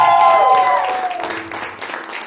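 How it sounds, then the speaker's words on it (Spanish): Applause from a church congregation, a short burst of clapping that fades over a couple of seconds with a brief tonal voice at the start. "usted puede darle un aplauso fuerte y dar un grito de victoria en este momento"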